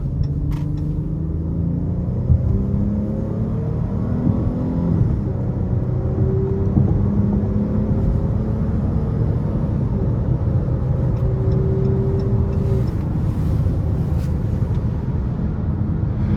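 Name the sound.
2023 Chrysler 300 3.6 car under hard acceleration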